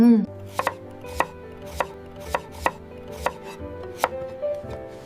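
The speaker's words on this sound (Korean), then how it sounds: "칼질 잘한다." A knife chops carrots and spinach for gimbap on a cutting board, striking in a steady rhythm of about eight crisp, close thuds over a soft background hum, with no talking.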